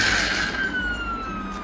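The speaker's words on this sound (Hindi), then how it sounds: "फायर ट्रक के पास सायरन है।" Red toy fire truck sounding a steady electronic siren, a sustained high wailing tone that slowly glides downward in pitch, fairly loud and alone with no talking.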